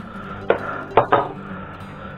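A knife slices through an onion on a cutting board with three crisp chops, one of them a quick double. The knocks ring out close and clear over a quiet kitchen background.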